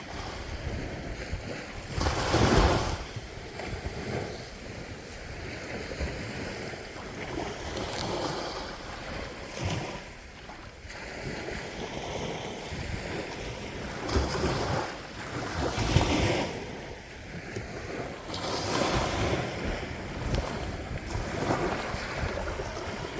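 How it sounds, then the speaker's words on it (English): A boat passes in the distance off the Icacos shoreline, where wind and breaking surf sweep in repeated loud washes, with blustery microphone noise over a continuous roar. "You have a boat in the distance there,"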